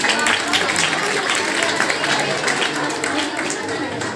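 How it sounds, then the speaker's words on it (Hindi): Audience applause at a high school farewell ceremony in Kakrahati, a steady crowd clapping that fills the space for several seconds with a murmur of voices mixed in. "जोरदार तालियां बजती रहे"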